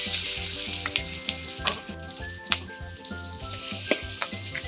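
A bay leaf and finely chopped green chillies frying in butter for paneer butter masala sizzle steadily up close, with periodic spatula scrapes and taps against the pan and no talking.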